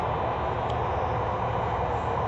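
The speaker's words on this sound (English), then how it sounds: "Train noise." Steady broadband rumble of a BART train, loud and continuous throughout with no pauses or distinct events.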